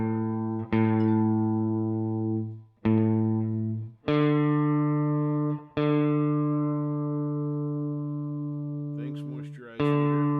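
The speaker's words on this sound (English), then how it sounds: "I know you hate to listen to me tune my guitar." An electric guitar is tuned, single notes plucked and left ringing one after another, with a brief flurry of higher notes near the end.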